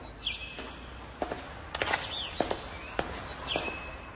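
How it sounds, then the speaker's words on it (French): Outdoors in spring, a chaffinch sings in short bright phrases, repeated a few times, mixed with footsteps and small knocks close by at a modest level. "Vous entendez? C'est le chant du pinson."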